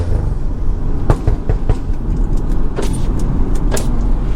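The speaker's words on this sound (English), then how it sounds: "give you guys some nice pulls, some pops, everything like that" A car driving through city traffic, its engine rumbling steadily with a few brief sharp pops and knocks over a loud, continuous road noise.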